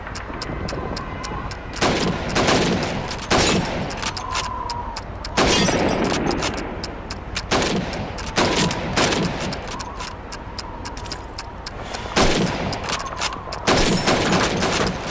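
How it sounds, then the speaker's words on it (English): Rifle shots ring out at helmet targets on a Call of Duty 2 training range, a series of loud, sharp cracks spaced every second or two over sustained background noise. "You have 15 seconds to shoot the helmets."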